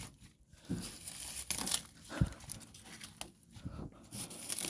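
Vegetation is cut quickly by hand while weeding outdoors, a close, uneven run of rustling, crinkling leaf and stem sounds with a few sharper snips and tears, fairly quiet and without speech.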